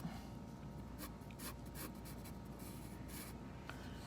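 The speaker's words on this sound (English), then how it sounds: "So I'm just gonna sketch this in like that." A pencil sketches lines on paper for a two-point perspective cabin drawing, giving quiet, close scratchy strokes in short bursts over a faint steady background hiss, with no talk.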